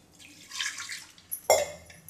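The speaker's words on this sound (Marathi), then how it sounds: "याच्यात थोडंसं पाणी टाकून घेऊ कुकरमध्ये।" About half a glass of water goes into a pressure cooker of cooked dal, a quick soft splash and gurgle after a few light clinks, short and close.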